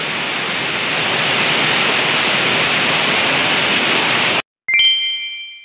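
A waterfall inside Gwangmyeong Cave gives a loud, steady broadband rush that cuts off abruptly, followed after a brief silence by a single bright ringing ding.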